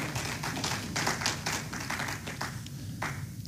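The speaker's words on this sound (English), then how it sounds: "A round of applause for Lois." Applause for a musician at a Sunday church service, a thin scattering of hand claps from a small group, fairly faint, fading toward the end.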